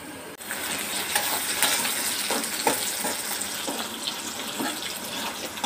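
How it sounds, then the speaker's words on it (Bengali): Onions fry for a long time in a deep pan, giving a steady close sizzle and hiss with occasional soft stirring scrapes throughout. "এই পেঁয়াজগুলো কিন্তু অনেকক্ষণ ভাজতে হচ্ছে"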